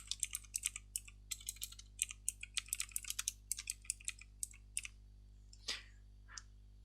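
A computer keyboard tapped in irregular bursts of close, crisp clicks while data is typed in, ending with a couple of separate louder keystrokes; no one speaks.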